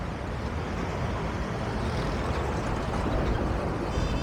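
Fast motor vehicles rush past on a busy urban road with no footbridge, a loud, continuous roar of cars, trucks and buses close by, with no voices over it.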